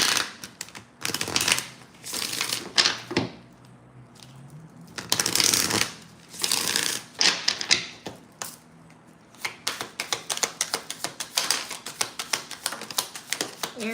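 Chakra oracle cards being shuffled by hand, repeated riffling bursts of papery flutter and snapping card edges, close and loud, broken by short pauses and ending in a run of quick dense riffles.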